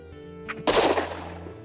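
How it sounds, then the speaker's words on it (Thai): A single gunshot rings out in a forest during a narrated Thai hunting tale, a sharp loud crack followed by a brief rolling echo, standing alone with no talk over it. "เสียงปืนก้องขึ้นหนึ่งนัด"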